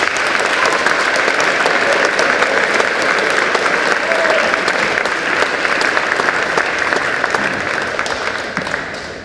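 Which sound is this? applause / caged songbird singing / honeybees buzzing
applause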